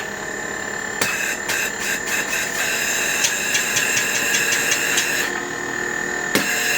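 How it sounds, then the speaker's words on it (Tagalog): A Panasonic air conditioner unit runs with its fan motor spinning, after repair of a faulty fan motor, giving a steady loud whirring hum with whining tones, broken by a few sharp clicks and knocks. "Maandar yung pan, maandar na rin yung unit."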